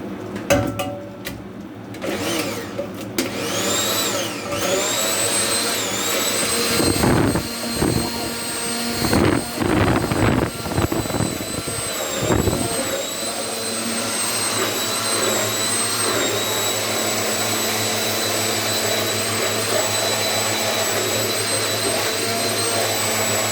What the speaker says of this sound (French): Et on va mixer.